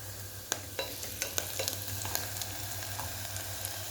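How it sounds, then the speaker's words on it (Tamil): Onions frying in a pan and being stirred, a steady close sizzle under a low hum, with scattered clicks and scrapes of the spoon against the pan and no talk. "வெங்காயம் நல்லா வணங்கிடுச்சு"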